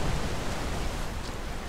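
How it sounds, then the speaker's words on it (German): Rushing water from a waterfall in Rise of the Tomb Raider, a dense, steady roar of broadband noise that fills the scene without break. "Der Wasserfall."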